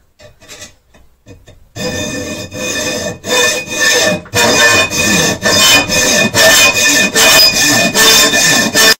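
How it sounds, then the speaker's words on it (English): A hacksaw cuts steel clamped in a vise for a first knife, a few light strokes first and then steady, loud, rhythmic back-and-forth rasping strokes up close. "I wasn't able to do it all with my hacksaw because as you can see, I can saw in until about here"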